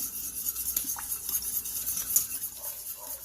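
Ingredients with water being mixed in a bowl for oven-baked crispy pork chops, faint clinks and soft scraping of a utensil under a hissy background, close by.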